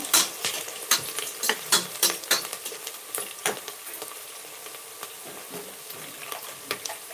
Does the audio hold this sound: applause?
no